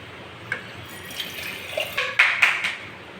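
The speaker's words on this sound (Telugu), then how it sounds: "ఫుల్ వాటర్ వేసేయాలి" Water is poured into a heated, greasy steel kadai during cleaning. Nearby splashing and gushing build up in bursts toward the end, with no talk.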